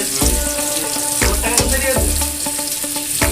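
Chili and oil frying in a pan on a gas stove for amra dal, loud close sizzling with repeated scraping stirs and clinks of the utensil against the pan at an uneven rhythm.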